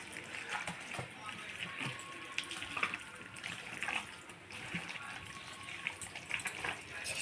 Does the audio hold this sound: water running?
yes